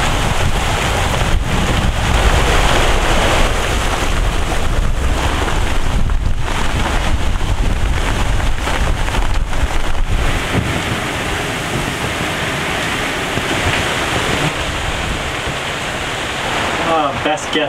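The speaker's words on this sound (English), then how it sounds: "that was a nice little storm. Really washed the boat off well" Heavy rain and gusting wind pound a sailboat, a loud, continuous roar of drumming water and microphone-buffeting wind that runs throughout, with a few faint voices underneath.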